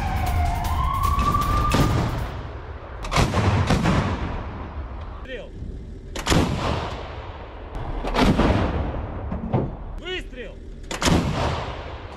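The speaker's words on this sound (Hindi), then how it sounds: "एंटी एयरक्राफ्ट गन से ताबड़तोड़ फायरिंग वहां पर की गई है।" An S-60 anti-aircraft gun fires several loud, heavy reports spaced a few seconds apart, each echoing and decaying, over a continuous rumbling background and a brief whistling tone.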